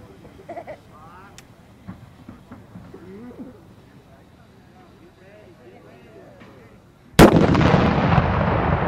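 An anvil mortar goes off outdoors with one sudden, very loud boom and a long, rough decay. Before it, people chatter and call out over quiet background sound.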